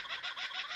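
A man imitates a chicken, letting out a short run of rapid, nasal clucking calls, close and fairly loud, with a voice mimicking the bird.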